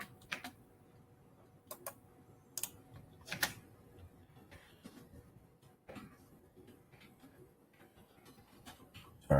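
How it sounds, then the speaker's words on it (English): Typing on a computer keyboard during a Tuesday night live stream: irregular bursts of sharp key clicks and clacks, close and moderately loud, with pauses between flurries and no talking. "Sorry, I'm typing if anybody's commenting."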